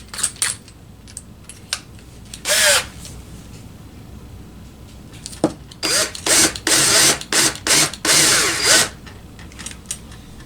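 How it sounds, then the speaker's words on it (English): A drill countersinks a hole in wood for an RC airplane ski, coming in short bursts and a few longer whirring runs between quiet pauses and small clicks, close by. "So I'm going to countersink this hole into the wood."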